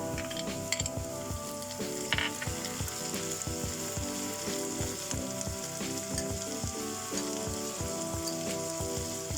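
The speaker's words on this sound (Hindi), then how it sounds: "अब इसे फ्राई करना है कि हमारा ओनियन जो है वो लाइट पिंक कलर हो जाए।" Onions with chopped tomatoes fry in a pan, giving a steady, close sizzle throughout with frequent soft scraping and stirring knocks from a utensil, and no talk.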